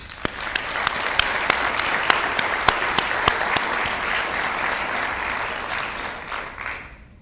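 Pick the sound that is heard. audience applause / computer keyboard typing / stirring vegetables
audience applause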